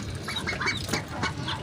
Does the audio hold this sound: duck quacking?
yes